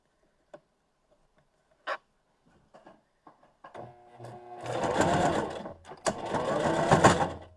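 A sewing machine back-stitches a fabric mask, a few faint clicks and short stops first, then two sustained bursts of fast, close-up whirring stitching.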